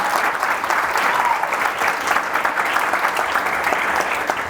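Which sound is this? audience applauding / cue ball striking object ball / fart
audience applauding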